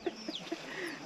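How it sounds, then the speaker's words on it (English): Chickens cluck in short, soft bursts, with a rooster's higher call faintly mixed in, all somewhat distant over a steady outdoor hiss, at a Thai hill-tribe village house. "Rooster, chicken around."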